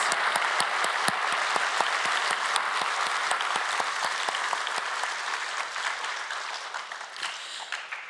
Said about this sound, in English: Let's give another round of applause to the winners.